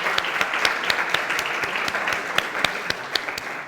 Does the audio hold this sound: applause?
yes